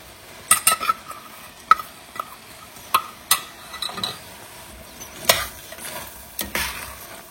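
A spoon stirs roasted cashews into rava kesari in a pan, giving scattered sharp metallic clinks and scrapes over a faint sizzle, close and without speech.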